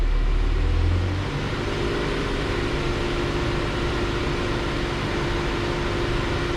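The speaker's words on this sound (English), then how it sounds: "let's bring it up to 1500 RPMs" A car engine held at a raised idle near 1500 RPM under command of a GearWrench bi-directional scan tool, a steady loud hum with a brief louder rumble at the start, no voices.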